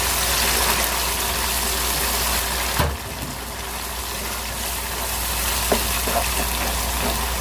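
Chicken mince frying in a masala in a pan gives a steady, close, even sizzle, with a brief dip near the middle as it is added and stirred. No one speaks.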